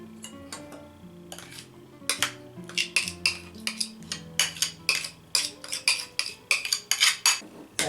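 A spoon clinks and scrapes against a bowl while Greek yogurt is added and mixed for tzatziki, with quick rhythmic metallic taps that grow busier and louder, close up and without speech.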